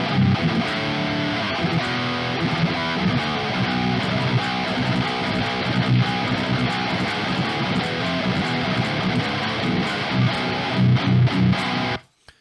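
Overdriven electric guitar through an Archetype Gojira overdrive plugin plays a busy, gritty riff with crunchy distorted tone for several seconds before stopping abruptly.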